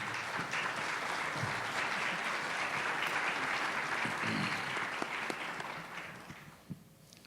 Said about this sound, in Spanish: yo quisiera que me acompañen a darle un aplauso al panel